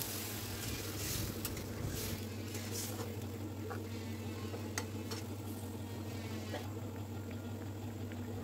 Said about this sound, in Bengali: আরও কিছুক্ষণ সময় নিয়ে কষাতে থাকবো মশলা থেকে তেল ফুটে না আসা পর্যন্ত